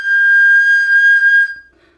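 Single sustained note on a small pipe of a Gibonus panflute, a clear, pure, breathy whistle held for about a second and a half, then stopping abruptly, close and alone.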